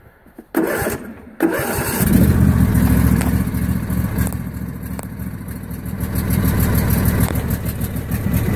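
A John Deere X155R lawn tractor is started with the key: a short cranking burst, a brief pause, then the engine catches and settles into a loud, steady close-up idle that rises slightly near the end.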